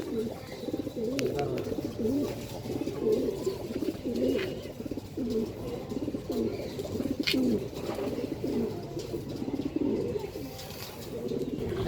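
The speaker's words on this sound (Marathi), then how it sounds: "एकदम काळ्या डोळ्याचे कबूतर आहेत, लाल पण अजिबात नाही या कबुतरांमध्ये." Punjabi pigeons in a loft coo continuously in low, rolling, overlapping calls, heard close and fairly loud, with occasional faint chirps and soft background noise.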